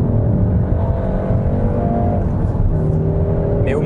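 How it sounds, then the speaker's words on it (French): A 2016 Peugeot 308 GTi by Peugeot Sport on a race circuit gives a loud, steady engine drone with a sustained low rumble and a slight rise in pitch, heard close and without talk. "ça provient de la sonorité du moteur, qui est assez quelconque en mode normal, assez artificiel en mode sport"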